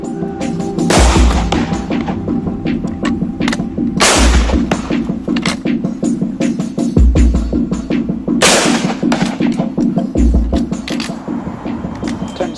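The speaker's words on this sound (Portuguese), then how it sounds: "Com o Springfield, os soldados precisam recarregar depois de cada tiro." Soldiers fire single-shot Springfield rifles, reloading after each shot, in a reenactment of cavalry firepower. About five loud, sharp reports are spaced a few seconds apart over a continuous rattling background.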